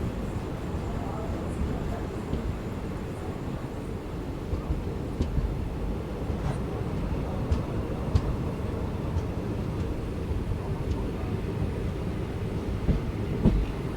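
A Coimbatore to Thoothukudi express train pulls away from a station after a short halt, with a steady low rumble of the rail cars and scattered wheel clicks over the tracks.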